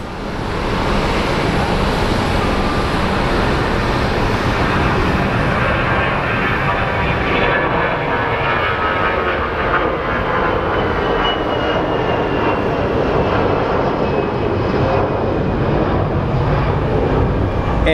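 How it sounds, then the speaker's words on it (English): An Airbus jet airliner taking off at Phoenix Sky Harbor, a loud, steady engine roar filling the whole stretch, broad and rushing with a slight whine, heard alone without talk. "So this Airbus is departing for Dallas-Fort Worth."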